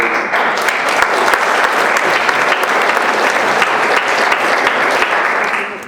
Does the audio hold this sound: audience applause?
yes